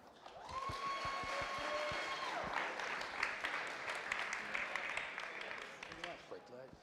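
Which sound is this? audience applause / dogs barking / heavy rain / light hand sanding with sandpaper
audience applause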